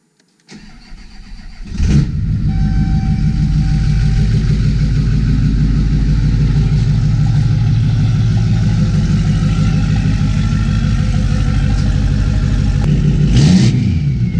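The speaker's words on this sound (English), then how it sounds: "figure may as well see if the thing still starts." A car engine cranks and catches after sitting unused, then settles into a steady, loud, close idle for several seconds before a short rev near the end.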